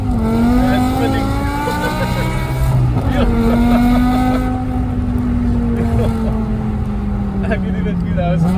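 A BMW E60 M5 with its V10 engine and traction control switched off spins its 19-inch tires, a loud sustained engine drone that rises and falls throughout, with tire noise beneath.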